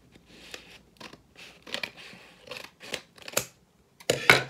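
Scissors snip through a ribbon threaded through an envelope during a magic trick, a series of close, crisp cutting clicks in an irregular rhythm ending in a louder final snip.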